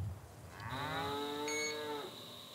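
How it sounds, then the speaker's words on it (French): A single long moo from a cow on a farm in the Brandenburg countryside rises and holds, clear and fairly close, over faint background hiss. "à peine troublé par le meuglement des bêtes"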